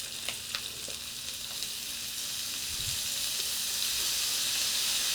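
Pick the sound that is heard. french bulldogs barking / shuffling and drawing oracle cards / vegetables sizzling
vegetables sizzling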